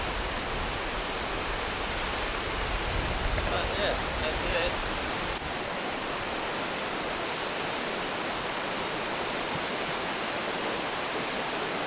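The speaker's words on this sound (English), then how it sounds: "I can tell that just by the sound of the water gushing in over there." Water gushes into Leonard's Gorge, a deep gorge along the Gibb River Road, as a loud, even roar heard from a distance. It is heaviest in the first five seconds, and a person speaks briefly over it.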